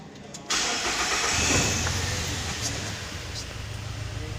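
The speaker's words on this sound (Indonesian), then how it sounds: "Lalu kita start pada kendaraan." A car engine is cranked and catches about half a second in during an engine management system diagnostic check, then settles into a steady, close idle with no talking.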